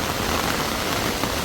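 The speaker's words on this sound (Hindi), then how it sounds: "बारिश की आवाज़ आप लोगों को सुनाई दे रही होगी," Heavy rain pours steadily in a hill village in the mountains, a dense, continuous hiss with no gaps, loud and close throughout.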